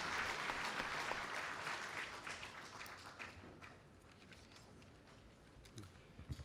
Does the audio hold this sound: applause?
yes